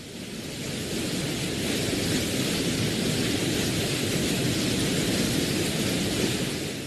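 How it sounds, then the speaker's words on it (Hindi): Heavy rain pours down during Cyclone Nivar, a dense, steady roar of downpour that holds constant and loud from start to finish, with a low rumbling underneath. "फिर शहरों में शुरू हुई भीषण बारिश।"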